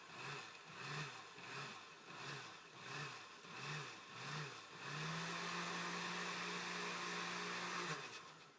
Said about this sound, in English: I'm actually just going to pulse it a few times